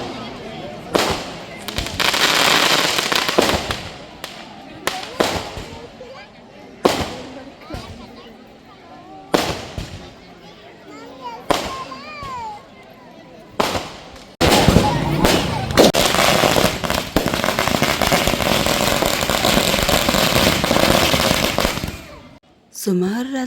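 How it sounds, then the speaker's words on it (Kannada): Firecrackers burst at a late-night temple festival, a string of sharp, loud bangs at irregular intervals followed by a long crackling barrage, with people talking and cheering in between. "ಅಲ್ಲೇ ಪಟಾಕಿಗಳನ್ನ ಹೊಡಿತಾರೆ."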